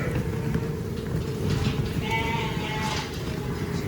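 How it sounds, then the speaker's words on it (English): A large flock of about 300 ewes with their lambs bleats continuously, overlapping calls near and far with a few clearer cries standing out over a steady farmyard din. "This is just how they're looking at the moment. About 300 ewes,"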